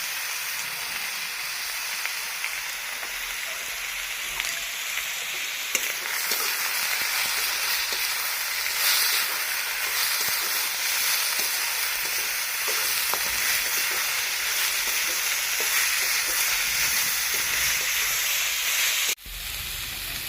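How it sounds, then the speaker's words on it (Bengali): Spices with turmeric sizzle steadily in a hot pan while being stirred, a close continuous frying hiss with occasional scrapes, no voices over it. "নাড়াচাড়া হয়ে গেছে, ভাজা ভাজা হয়ে গেছে"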